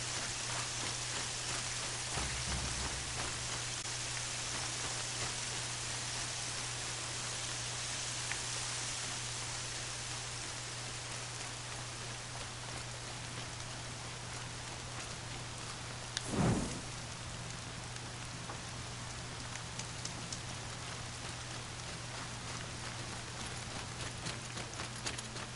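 Rainfall in the video game Horizon Zero Dawn, an even, constant hiss of drops on surfaces with a low steady hum beneath and a single brief swelling whoosh midway, no voices.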